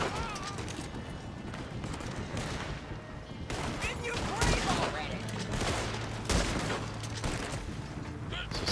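Gunfire in the video game Red Dead Redemption 2 Online, a dense, continuous stream of rapid overlapping shots with heavier cracks mixed in, loud and sustained throughout.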